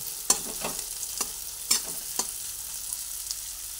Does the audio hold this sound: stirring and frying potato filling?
yes